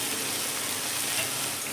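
Chopped tomato pieces drop into a pan of frying vegetables and egg, bringing a steady, close sizzle with soft crackling throughout.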